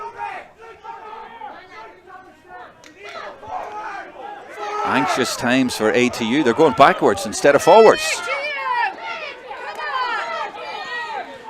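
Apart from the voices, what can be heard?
crowd urging team on at Gaelic football final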